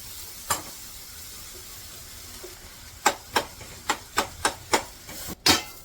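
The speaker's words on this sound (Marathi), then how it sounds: "यात चांगलं असं परतून घेते" A filling sautéed in a pan, a low sizzle under a run of sharp, evenly spaced knocks of a spoon or spatula against the pan.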